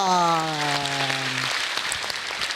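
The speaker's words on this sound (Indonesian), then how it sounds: "Sekali lagi tepuk tangan untuk" Audience applause at an Indonesian stand-up comedy show, a dense patter of clapping that starts under a held sung note and then carries on alone to the end.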